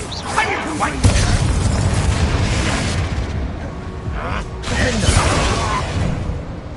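Casting an Incendio fire spell in Hogwarts Legacy brings loud whooshing fiery bursts and booms, with a second blast following midway and fight noise throughout.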